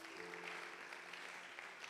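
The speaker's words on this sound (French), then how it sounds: "On peut joindre nos deux mains et acclamer Dieu pour lui." A church congregation applauds for the youth president, engineer Brother Lucien, with dense, continuous clapping that holds steady for about two seconds at a fairly soft level.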